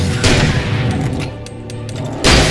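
Heavy gunshots ring out in the Alan Wake game, a loud blast at the start and another at the end with a reverberant rumble and scattered clicks between.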